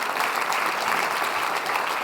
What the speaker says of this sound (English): can I also get a big round of applause for the Director General of the Commission's Directorate General on Research and Innovation